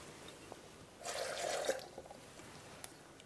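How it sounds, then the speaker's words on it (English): Three-quarters of a cup of water pours into a raw-food Alfredo sauce mixture, a short soft splashing pour of about a second amid quiet room tone. "we're also going to put in 3/4 cups of water"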